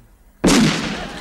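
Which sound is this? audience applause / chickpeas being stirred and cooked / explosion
explosion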